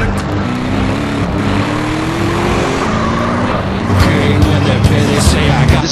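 Car driving in GTA: San Andreas, a steady engine drone with shifting pitch, tire noise and a brief skid, loud and continuous throughout with no voices.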